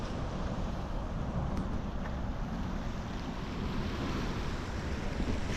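Steady ocean surf at a beach where someone is fishing, a constant broad wash of waves mixed with heavy wind rumble on the microphone, no talking.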